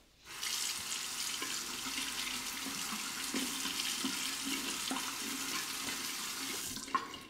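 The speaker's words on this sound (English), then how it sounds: "A good stream of water will rinse it quite well." Steady stream of running water from a tap rinsing an Alpha Spirit SE razor, a continuous close hiss with a faint clink near the end.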